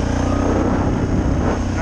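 A KingQuad ATV engine running close and loud, a steady rumbling drone that lasts under two seconds.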